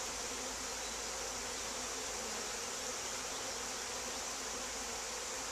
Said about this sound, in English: You see I got several bees in the air floating around here.